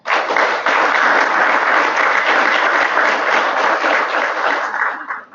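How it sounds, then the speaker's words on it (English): An audience at a building and safety departments event gives the committee a sustained round of applause, loud and even throughout before tapering off at the end. "I'd like a round of applause for the committee"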